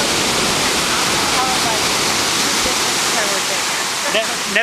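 Heavy ocean surf with waves around ten feet high roars loud and close in a constant wash of noise, with a faint voice barely audible beneath it.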